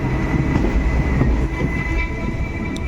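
The Nagpur–Madgaon passenger train rumbles past nearby, loud and continuous, with a heavy low roar and a rhythmic clatter of its wheels on the rails throughout.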